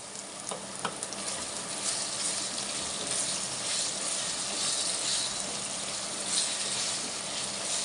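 Freshly pounded ginger-garlic paste fries in a clay pot, a constant close sizzle and crackle with a few sharp ticks of stirring near the start and no talk.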